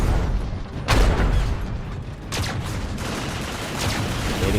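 Heavy fusion cannon fire in the Transformers: Dark of the Moon video game on PS3: a few booming blasts and crackling bursts over a dense, noisy battle background, with no talking.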